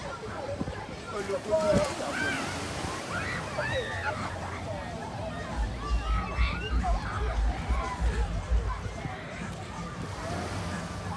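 Waves wash steadily onto Pebbles Beach at Carlisle Bay, Barbados, with a continuous sloshing surf rumble under nearby voices and general beach chatter.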